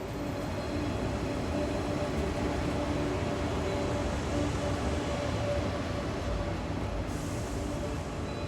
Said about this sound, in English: our train number 1207 shows up on track 4.